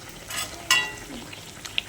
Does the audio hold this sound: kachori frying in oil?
yes